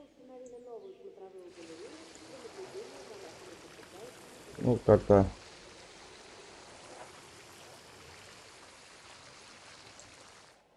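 Steady flowing water placed in the Jurassic World Evolution game, a continuous soft wash running throughout, with brief louder bursts in the middle and someone talking over it at the start.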